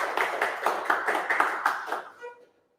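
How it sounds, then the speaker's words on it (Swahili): An audience claps in a brisk, even burst of applause that fades out near the end, with faint voices underneath. "Tumpigie makofi as he comes"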